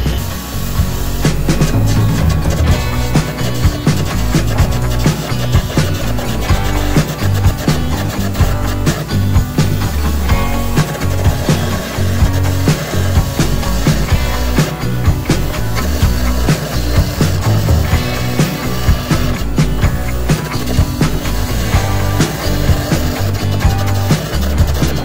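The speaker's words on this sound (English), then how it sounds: "you want to keep gouging until you can't see crack anymore" Gouging out a crack in a Cat 992 loader bucket produces a loud, continuous, close roaring hiss and crackle that holds steady throughout with no speech.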